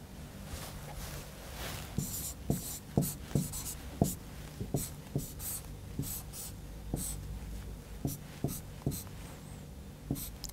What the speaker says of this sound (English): Let us write the reaction.